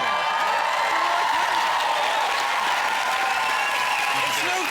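A television talk-show studio audience applauds and cheers, a dense, steady wash of clapping with whoops mixed in, loud and continuous throughout.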